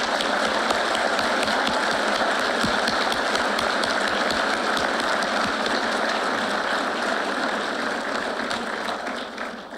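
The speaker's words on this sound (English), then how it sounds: "if you would join me and giving Police Class 72 a round of applause" An audience at a police academy graduation for Class 72 breaks into sustained, dense applause, loud and continuous, tapering slightly at the end.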